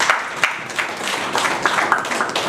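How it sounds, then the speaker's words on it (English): An audience round of applause at the Prinvest 2024 event, dense steady clapping from many hands, loud and close, sustained across the whole moment without talk. "can you give me a round of applause, please?"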